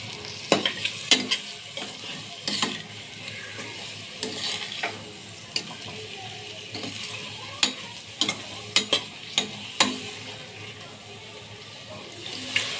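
Soft frying sizzle in a pan with repeated scraping and tapping as eggs are stirred with a spoon for egg rice, quiet and close, no talking.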